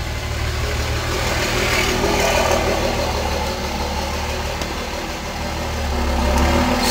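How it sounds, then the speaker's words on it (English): A diesel vehicle rumbling past, a continuous low engine drone that swells slightly toward the end as it draws nearer, with no talk. "Some more on his diesel coming by."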